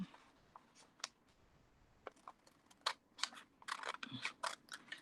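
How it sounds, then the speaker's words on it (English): Scissors snip close and faint while fussy cutting paper pieces for a zine, irregular crisp clicks and paper rustles in quick bursts, denser toward the end. "So I'm fussy cutting these out."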